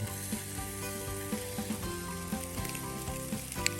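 Steady crackling sizzle of food cooking on a hot grill, with occasional soft clinks and taps over the continuous frying hiss.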